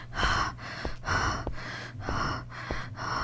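Heavy rhythmic panting from a character in a horror video game set in an inn where beasts roam, a repeating cycle of loud breathy gasps about every half second, close and continuous.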